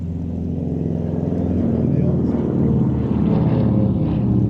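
An Avro Lancaster four-engine bomber flies past at Sywell Airshow 2024 with a loud, continuous, deep droning rumble of piston engines that swells slightly. A commentator's voice sits under it.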